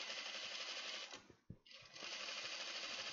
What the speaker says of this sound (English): I'm going to sew this right sides together